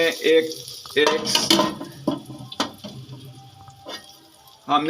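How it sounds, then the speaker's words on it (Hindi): Tadka spices for kadhi pakora crackle and sizzle in hot oil in short bursts, with a few clinks of a utensil against a pan, close by. "ये तड़का लगा देंगे। ये तड़का लग गया"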